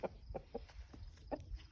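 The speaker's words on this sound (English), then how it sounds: "We have these hens." Free range hens cluck in a series of short, soft clucks spaced irregularly, several calls in under two seconds, close by and fairly quiet with no talking.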